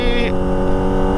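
A Kawasaki ZX-25R motorcycle fitted with a Prospeed Shark high-mount exhaust runs at a steady idle. Its deep, even drone is loud and close and lasts throughout.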